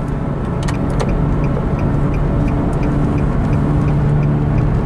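Nissan Grand Livina low MPV with an 1800 cc engine and 6-speed manual, driven at speed in third gear around 120 km/h, a loud steady engine drone with road and wind rumble filling the cabin.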